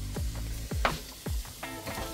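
Fish sautéing with salt in a pan gives a brief, close sizzle, broken by a few knocks and scrapes as it is moved about.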